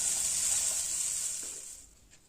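Boiled chickpeas fry in a pan with a bright, steady hiss of sizzling oil that fades over a couple of seconds.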